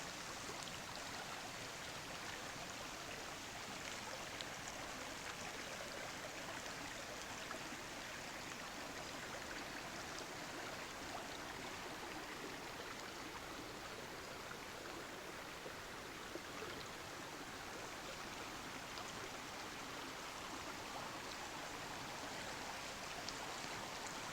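A forest river flows with a soft, continuous rushing and trickling murmur, faint and steady throughout with no voices over it.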